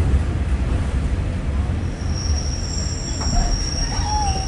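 Train wheels squeal as a train pulls into Fishguard Harbour, a small station at a ferry port, with a steady rumbling roll and high sustained screeches building near the end, loud and close.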